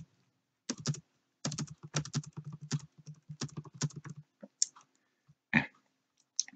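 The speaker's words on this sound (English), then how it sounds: "and you just continue typing it" Numbers keyed into a spreadsheet on a computer keyboard: bursts of quick, close clicking keystrokes in uneven runs, with short pauses and a few isolated taps toward the end.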